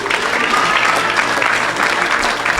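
A church congregation claps steadily in a Sunday worship service, loud and close, with dense applause continuing throughout and a voice faintly underneath.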